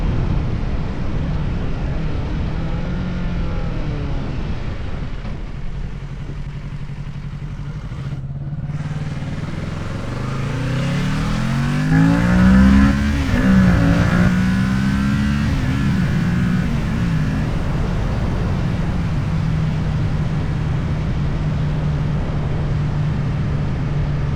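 Kawasaki Ninja 650 motorcycle cruising on a scenic road, its engine a steady loud drone mixed with heavy wind rush, rising in pitch partway through as it accelerates, then holding steady.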